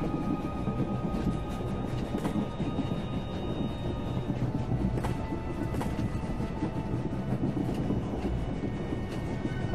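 A moving train in Star Wars: The Old Republic, heard as a steady, dense rumble with rattling clanks throughout, loud and continuous with no talk over it.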